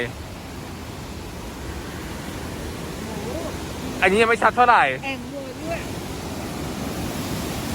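Ryuzu Falls near Lake Chuzenji in autumn roars as a steady broadband rush of falling water heard close by, with a person talking briefly over the constant noise.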